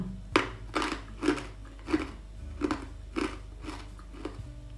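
Crispy dried taro chips are bitten and crunched close to the mouth, producing about eight evenly spaced hard, brittle crunches that are rhythmic and loud against a low background hum, with no talking.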